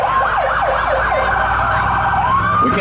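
A fire department vehicle in a Christmas parade sounds its siren loudly and nearby, a rapid warbling yelp that shifts into a long, steady wail, with traffic rumble underneath.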